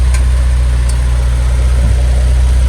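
A Jeep Cherokee engine idles with a freshly welded muffler, giving a loud, steady, low rumble with no puffing or sputter, heard close and alone.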